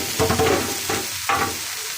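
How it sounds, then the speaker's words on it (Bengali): Ground dried shrimp frying in oil in a pan, a close crackling sizzle broken by two or three brisk stirring scrapes over a couple of seconds. "এখন চিংড়ি মাছগুলা তেলে নেব।"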